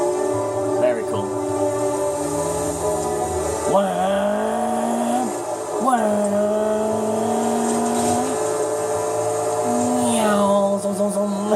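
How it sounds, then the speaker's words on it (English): A car driving fast through city streets in L.A. Noire, a steady engine drone with rising and falling gear shifts and occasional tire squeal, loud and continuous, while a person talks over it. "this car's fast as hell"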